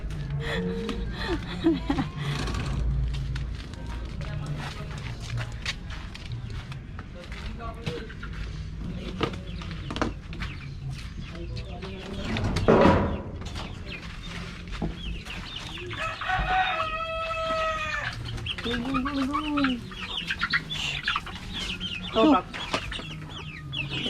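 Backyard chickens clucking after feeding, several hens and a rooster giving scattered clucks and crowing, near and fairly loud, with a person talking at moments.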